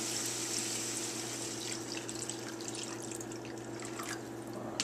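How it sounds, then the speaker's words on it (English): Vegetable broth pours steadily into a pot of quinoa, a continuous liquid rush that thins into trickling and drips, heard close over a faint background hum. "Top it all off with 2 cups of veggie broth."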